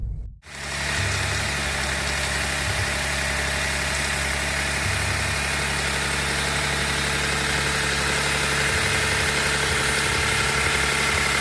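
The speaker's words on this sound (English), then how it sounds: "it has a very raspy and unrefined sound to it" The 3-cylinder hybrid engine of a 2021 Toyota Yaris Cross idles steadily with a rough, raspy, buzzing drone, constant and close, after a brief start at the very beginning.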